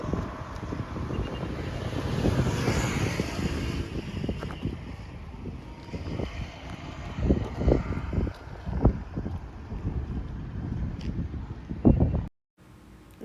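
Wind blowing through a tamarind grove in the Horsley Hills, buffeting the microphone in loud, uneven gusts that swell and fade with rumbling bursts throughout, and a brief dropout near the end.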